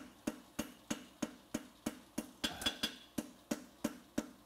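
A hammer lightly tapping a forge weld on a diamond toe inverted bar horseshoe: a steady, evenly spaced series of about fifteen sharp metallic taps, close and moderately quiet, with a faint ringing tone partway through.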